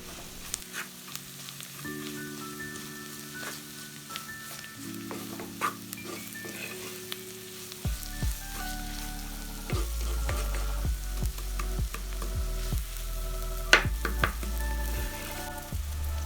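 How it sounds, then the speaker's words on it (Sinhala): Chilli pieces and chilli powder fry over medium heat for seeni sambol, a steady close sizzle running throughout with repeated scraping stirs and clinks of a spoon against the pan. "කෑලි මිරිසුයි මිරිස් කුඩුයි එකතු කරාගෙන පස්සේ විනාඩි 3ක් විතර මධ්‍යම ගින්දරේ උයා ගන්න ඕනි"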